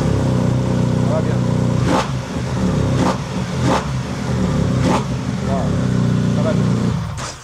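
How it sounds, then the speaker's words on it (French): A motorcycle fitted with a carbon exhaust line revs repeatedly, with several sharp throttle blips rising over a steady idling rumble, close and loud. "Donc ça change quand même la sonorité de la moto."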